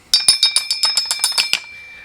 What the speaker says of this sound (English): that's the best I could do for a noisy gong and a clanging cymbal